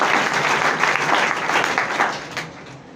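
Crowd applause at a public gathering in Saran, a steady wash of many hands clapping for about three seconds that thins out toward the end, no speech over it.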